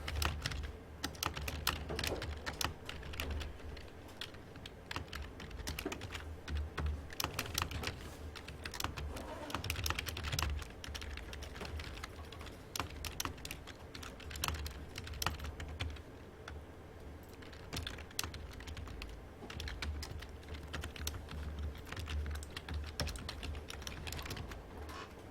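Steady typing on a computer keyboard, rapid irregular key clicks continuing for a long stretch at close range with a low background hum, no talking.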